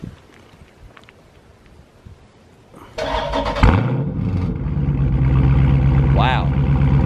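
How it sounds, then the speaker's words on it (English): A Ford Mustang S197 with a Coyote V8 fires up after a quiet pause, then its exhaust revs loudly and close before settling into a strong, rumbling idle, with people talking nearby. "now we're gonna listen to the exhaust on this"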